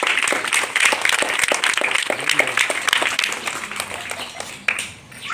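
Schoolchildren applaud together in a sustained burst of rapid, uneven clapping that fills the space and stays fairly steady, with a few voices calling out underneath before it tapers off at the end.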